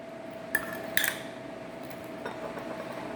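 A utensil clinks against a bowl while sweet potato casserole ingredients are mixed, two sharp knocks close together followed by softer scraping, under low kitchen hum.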